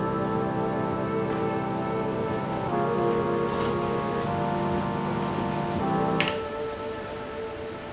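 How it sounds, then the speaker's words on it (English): A sustained melodic pad from an Elektron Digitone synthesizer plays soft, shifting chord tones at a steady moderate level, with a few faint clicks over it. "So a pretty nice little pad, melodic sample"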